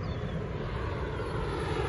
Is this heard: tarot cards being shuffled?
no